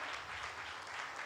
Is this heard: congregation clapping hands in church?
yes